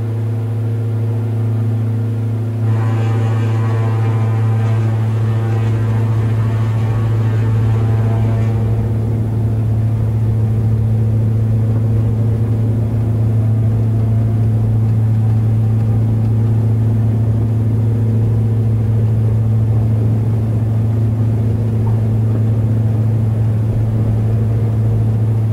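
Inside a Diamond DA42 twin-engine aircraft in a flight simulator, the steady, loud propeller and engine drone hums continuously, with a brief higher whine layered in for several seconds early on.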